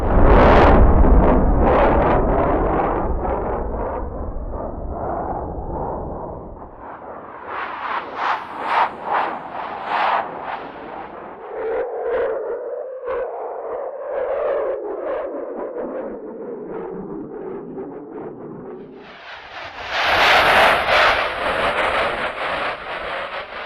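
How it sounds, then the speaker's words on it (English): Layered jet engine sound effects built in an Ableton Live rack, with individual layers soloed in turn: a loud roaring rumble, then fluttering, pulsing turbine textures and a swelling whine, followed by a bright hissing burst near the end, with no voices. "The jet sounds you just heard were not from the video. They were created with an Ableton rack."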